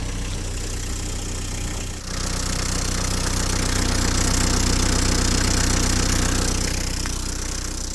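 A car engine idles steadily and close by for the whole stretch while it warms the oil before a do-it-yourself oil change, a constant low rumble with a faint knock and no talk.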